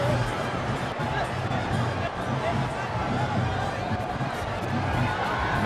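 A crowd cheering at a Schools Rugby knockout match between Isipathana College and St. Joseph's College, a constant roar of spectators beneath a commentator's voice.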